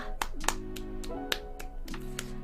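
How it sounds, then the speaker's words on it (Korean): A few scattered hand claps ring out over a steady electronic game melody during a sprout-cutting event, irregular and light rather than a full round of applause. "박수"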